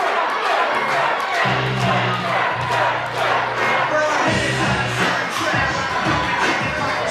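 A wrestling event crowd roars and cheers loudly and continuously, with shouts and whoops rising over a dense, close crowd noise and low chanting swells.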